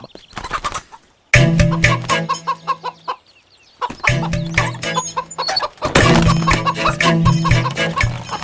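A chicken clucking loudly and close in a Malayalam film scene, a series of sharp repeated clucks and squawks broken by short pauses, with some flapping.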